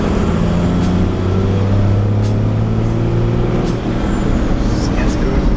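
A car fitted with a fabricated turbo air box pulls away, its engine droning loud and close with a rising, steady tone and occasional hissing whooshes from the induction, continuous throughout.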